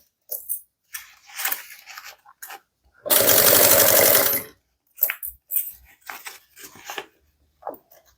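Sewing machine stitching a bag seam in one brief, steady burst, set among scattered rustling and handling noises of fabric.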